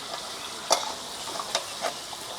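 Hilsa fish pieces rubbed with turmeric and salt fry in oil with a soft steady sizzle, broken by a few sharp stirring scrapes or clinks close by, with no talk.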